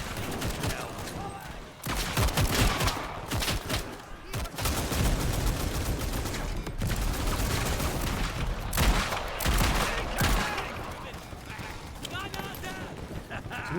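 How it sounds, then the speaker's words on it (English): Dense battle gunfire in the World War I video game Over The Top, with continuous loud rifle and machine-gun bursts and heavy low thumps like a grenade blast, steady throughout under occasional voices. "Someone just throw a grenade?"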